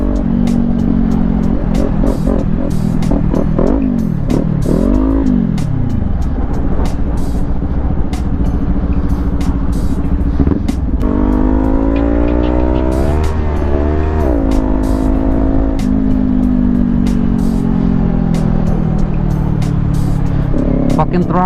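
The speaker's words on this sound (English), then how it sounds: "Fucking throttle's still stuck" A motorcycle engine with a stuck throttle revs up and down continuously and loudly at close range. Someone talks over the engine.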